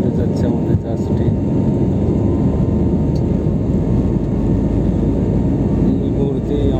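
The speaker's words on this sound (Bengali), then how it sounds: "এই মুহূর্তে আমাদের জাহাজটি কয়েক সেকেন্ডের মধ্যে টেক অফ করবে।" A passenger airplane accelerates down the runway for takeoff at Changi Airport, a loud steady roar of engine and rolling noise heard from inside the cabin.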